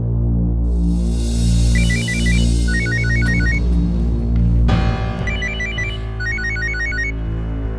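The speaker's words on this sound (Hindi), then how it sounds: "राजेश का फोन?" A phone rings with repeated bursts of bright electronic tones in quick patterned groups, loud and close, over a low musical drone.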